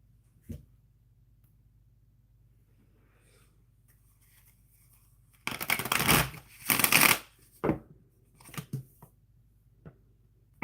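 A deck of tarot cards is shuffled close by in a quiet room, a dense riffling burst lasting about two seconds, then a few soft, separate card slaps.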